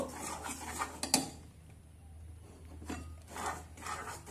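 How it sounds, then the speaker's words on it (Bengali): Butter, milk powder and cocoa powder stirred together in a bowl, making soft, quiet scraping and rubbing strokes with a couple of light clinks from the utensil against the bowl, close by. "এবার butter, milk powder, cocoa powder সব ভালো করে মিশিয়ে নেব।"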